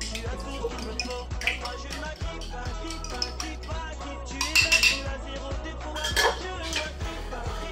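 A utensil stirs a milk mixture for a cake in a bowl, giving steady close scraping and light clinking taps against the bowl, with a few louder knocks toward the end.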